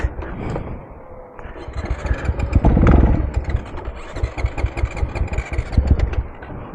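A supermoto motorcycle engine idling roughly and nearly stalling, with a loud, close, uneven burble that sags, swells and stutters as the revs dip and recover.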